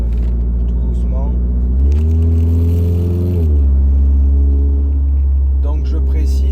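A Volkswagen Golf R drives along with a steady engine drone, then its engine revs up into a louder, rising howl and settles back down, with someone speaking French over the sound.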